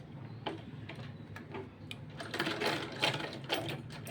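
A sewing machine stitching a sleeve seam on a small child's kurta, running in a quick, steady ticking rhythm at close range that grows louder and busier toward the end, with no talking.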